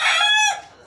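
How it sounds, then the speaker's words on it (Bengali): An Egyptian Fayoumi chicken gives a short, loud, close crow-like call lasting about half a second, then it fades, with a brief cluck starting at the very end. "অরিজিনাল মিশরি ফার্মি মুরগিগুলো দেখেন কিভাবে ডিম পেড়ে রেখেছে"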